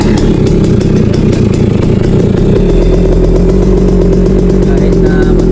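Motorcycle engine running loud and close after being started, with a steady rapid putter and a slight shift in tone midway, while a voice talks over it.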